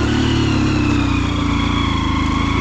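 Motorcycle engine idling and revving as the rider brings the bike to a stop on a rough mountain road toward Jumla, loud and close, a steady throbbing drone throughout.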